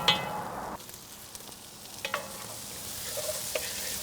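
Minced garlic and diced fire-roasted peppers sauté in a pot on a Kamado Joe Big Joe II grill, giving a soft hissing sizzle with a few light scrapes and clicks of stirring, near and moderately quiet, with no voices.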